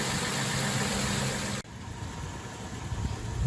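A 2006 Toyota Tundra's warmed-up engine idles with a steady, even drone, then shuts off abruptly partway through, leaving quiet, faint background rustling.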